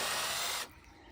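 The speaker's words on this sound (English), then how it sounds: "Just take a bit longer to drill." A multi-material drill bit bores into wood during garden swing construction, a loud steady whirring grind that cuts off abruptly after about half a second, leaving quiet afterward.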